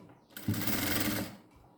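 Sewing machine stitching blouse fabric into frills, one short whirring run of about a second, close and moderately loud, starting and stopping cleanly.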